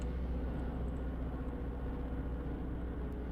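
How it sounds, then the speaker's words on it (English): Several GT3 race cars in a racing video game rev their engines on the grid at Imperatorum Devresi before the start, a steady dense engine rumble and drone throughout with no clear individual revs standing out. "Car's now revving."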